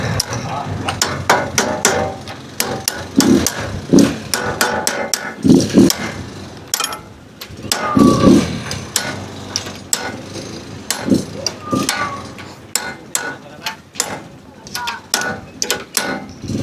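A hammer strikes repeatedly to knock a knuckle bearing loose, sharp metallic impacts landing in irregular bursts, close and loud, with people talking in between blows.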